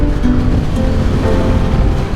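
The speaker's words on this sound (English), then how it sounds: "Pretty windy today." Steady wind roaring and buffeting against the microphone while riding a BMW CE 04 electric scooter, with a constant low rumble throughout and no voices.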